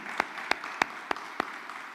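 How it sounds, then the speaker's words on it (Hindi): Congregation at a Friday prayer meeting clapping to welcome first-time visitors, heard as five sharp, evenly spaced claps in a steady rhythm, close and clear over a quiet room. "वेलकम करते हैं ज़ोरदार तालियों में।"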